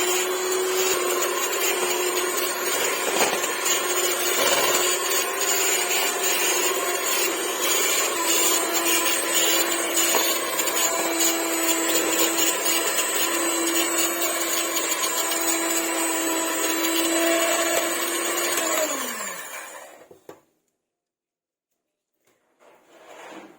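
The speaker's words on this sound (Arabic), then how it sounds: "وهنبدأ نخلط المكونات بالمضرب الكهربائي" Electric hand mixer beating chocolate cake batter, a steady loud motor whine with a rattling scrape of beaters in the bowl, running continuously for about twenty seconds before winding down and stopping into silence.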